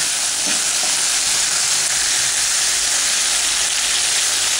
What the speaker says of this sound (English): Go ahead and keep working the onions around.